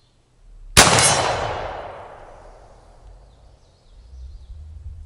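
A single loud metallic clang rings out as a shot from a Thompson Center .56 caliber smoothbore musket strikes a steel target, the bright ring decaying slowly over several seconds before faint low rumble returns.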